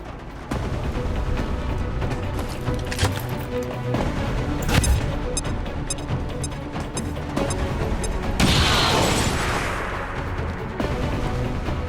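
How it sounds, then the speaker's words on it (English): A grenade thrown and detonating in the tactical strategy game XCOM 2, heard as a loud burst of crashing, rumbling explosion noise with debris, followed by a hissing blast wash amid steady battle ambience. "Grenade out!"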